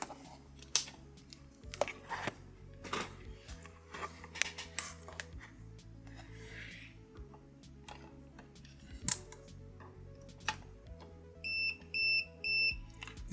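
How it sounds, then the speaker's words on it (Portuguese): An MDS8209 combined oscilloscope, multimeter and function generator beeps in AC voltage mode while reading a higher mains voltage. The short repeated electronic bleeps sound over background music, with a cluster of pulsed beeps near the end. "Ele está bipando, né?"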